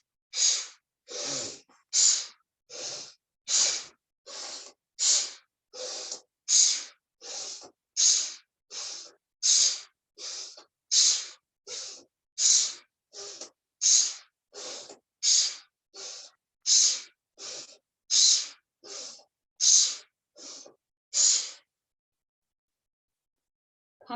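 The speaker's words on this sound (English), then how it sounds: "Inhale, exhale, the elbows come towards the hips with our bellows breath maybe." Forceful yoga bellows breathing, with about twenty sharp, rhythmic exhales in a steady, even pulse, close and loud, each a breathy huff through the nose before stopping.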